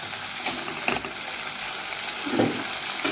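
Onions frying in a pan for duck curry, a steady close hiss and sizzle of oil with a couple of brief stirring bumps, no voices.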